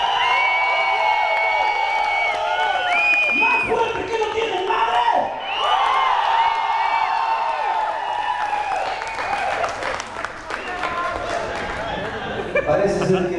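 A crowd at a rock concert cheers, whoops and applauds loudly throughout, with a dense, continuous roar, while voices and some tonal sound rise over the noise in places.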